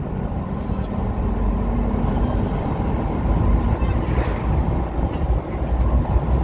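Truck with a six-speed transmission, 4.88 gears and 35-inch tires driving in third gear on a bumpy, curvy road, giving a steady loud rumbling drone with low-end roar and wind buffeting throughout, no voices.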